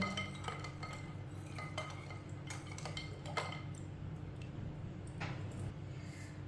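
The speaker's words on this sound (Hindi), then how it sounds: "चम्मच चला लेंगे" A spoon stirs sabudana sharbat with ice in a glass or bowl, giving soft repeated clinks and taps against the container over a steady faint background, with no talking.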